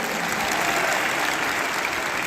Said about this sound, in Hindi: तो एक बार जोरदार तालियां डॉक्टर अशोक भाटिया जी के लिए।